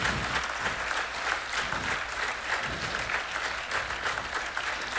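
Steady, dense crowd applause honours team leader Wafa Idrissi at a master class gathering, a continuous wash of many hands clapping at an even level throughout.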